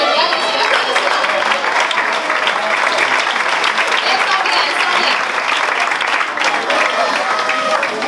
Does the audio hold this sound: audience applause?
yes